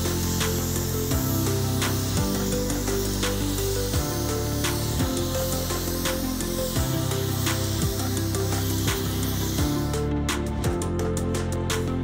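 A spray gun lays Axalta Series 2 WS-400 basecoat onto a car, blending across the door, the front and the opposite wing, as a steady loud hiss of atomized paint with faint rubbing noises and no speech.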